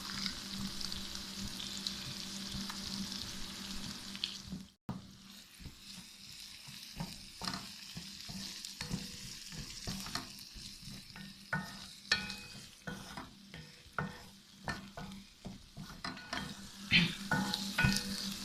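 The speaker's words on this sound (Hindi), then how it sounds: "अब ये अच्छी तरह भून चुका है, फ्राई हो चुका है" Khageena, spiced eggs with green chillies and chopped coriander, frying in oil in a pan: a continuous close sizzle broken by spatula scrapes and knocks, with a brief break early on.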